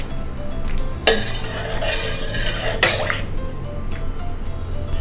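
A spoon scrapes and clinks against a pot of simmering moong dal, with two sharp metallic knocks among softer stirring sounds over a low bubbling background, close and moderately loud.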